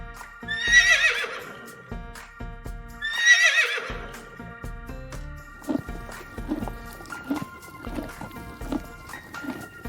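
Two loud horse whinnies ring out a few seconds apart, followed by scattered knocks, splashes and faint clip-clop sounds.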